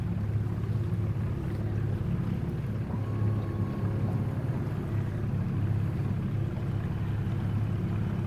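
A small outboard boat motor drones steadily while moving through shallow water in a Sydney waterway, a low, even hum with wind noise on the microphone and no speech.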